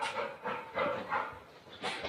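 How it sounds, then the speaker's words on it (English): Roscoe the dog pants after chasing sticks, a steady run of breathy huffs at an even rhythm, close and fairly quiet, with no talk over it. "Got my panting dog Roscoe."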